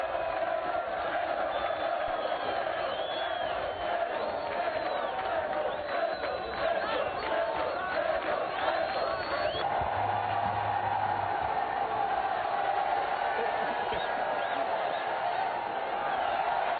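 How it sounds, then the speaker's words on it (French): Crowd at a rail station ceremony in Dilolo, near Luau, cheering and clapping as a president greets his compatriots, a loud, continuous roar of voices with whistles and ululating cries rising over it throughout. "un tonnerre d'applaudissements envahit l'atmosphère"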